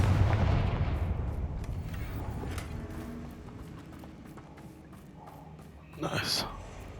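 A Confringo fire spell is cast in Hogwarts Legacy on PS5, giving a short, loud, explosive burst near the end that stands out over a steady bed of game ambience.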